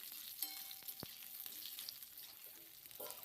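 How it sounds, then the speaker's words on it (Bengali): Potato pieces fry in hot oil with spices in a home kitchen, giving a continuous crackling sizzle dotted with small pops and a sharp utensil knock, close and moderately loud with no talk. "এবার এই তেলের মধ্যে আলুটাকেও হালকা লাল করে একটু ভেজে নেব।"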